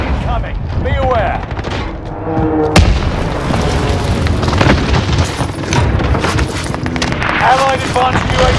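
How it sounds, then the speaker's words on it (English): Repeated booming explosions from a precision airstrike in the Call of Duty Warzone video game, loud and continuous with dense gunfire-like crackle, a sharp blast near the three-second mark, and game voices speaking over the barrage. "Allied precision airstrike incoming."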